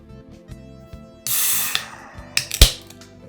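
A can of Nitro Pepsi cracks open with a sharp click and a hissing fizz, followed by a few more clicks and a sharp snap.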